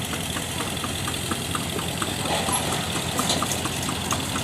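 Tractor engine idling at a tractor show in Greene County, Tennessee, a steady low knocking rumble with rhythmic pulses, moderately loud and continuous with outdoor background noise and no talking.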